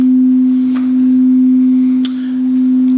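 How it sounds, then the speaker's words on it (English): Two slightly out-of-tune sustained tones sound together as one steady, fairly loud pitch whose loudness swells and dips slowly as they beat, with a couple of faint clicks and no voices. "But if they're out of tune, even a little bit, you'll hear that pattern changing."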